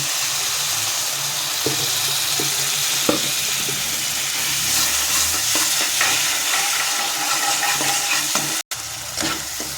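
Water poured into a pan of fish curry that is frying and sizzling in oil, with a steady hiss, stirring scrapes and clatter through the pan, and a brief dropout near the end.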